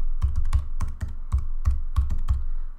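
Computer keyboard typing a website domain name into a lookup tool's search box, a close run of crisp, irregular key clicks in small bursts with brief pauses, loud and alone without talk.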